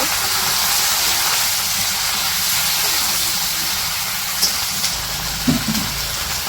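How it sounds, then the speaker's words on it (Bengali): Vegetables fry in hot oil in a wok, giving a steady loud hiss and sizzle throughout, with a few brief clinks near the end. "কড়াই তেলের মধ্যে সবজিগুলা দিয়ে দিল, সবজিগুলো একটু ভাজা নিব।"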